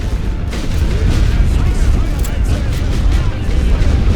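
Artillery fire in the WWI strategy game The Great War: Western Front, a steady rumbling barrage of dull booms under a continuous loud din.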